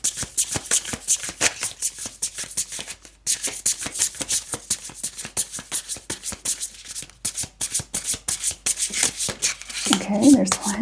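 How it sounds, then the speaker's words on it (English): Tarot cards are shuffled by hand in quick, repeated riffling bursts with brief pauses between them, close and crisp, while a person talks softly at the end. "Let's get a couple more cards from the tarot."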